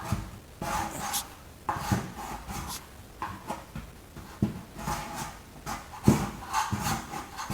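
Old paint is scraped off a Peterbilt 359 truck part in a series of rough, rasping strokes, each a short burst of grinding friction with brief pauses between, close and fairly loud.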